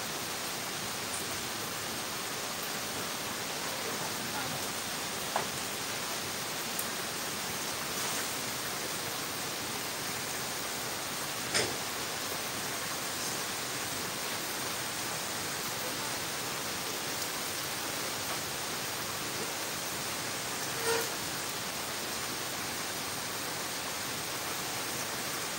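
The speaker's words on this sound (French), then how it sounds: "Avec ce genre de pluie là" Steady, dense hiss of heavy rain pouring outdoors during flooding in Côte d'Ivoire, constant and enveloping, with a few faint knocks and drips standing out now and then.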